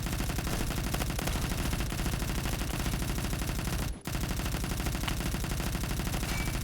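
Continuous rapid automatic fire from an MG36 machine gun in the shooter game Phantom Forces. Dense, loud sustained bursts with one brief break near the end.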